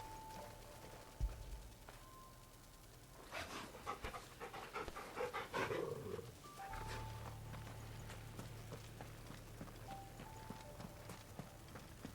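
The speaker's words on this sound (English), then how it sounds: "Oh, I haven't pet my dog today." A dog pants steadily in Final Fantasy 16, a quiet rhythmic breathing with soft hoof clops and footsteps in the middle, over a low steady game hum.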